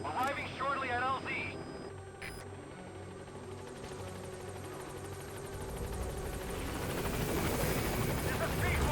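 In Metal Gear Solid V, a helicopter approaches a landing zone, its rotor drone building steadily louder under brief radio chatter and a short electronic beep near the start.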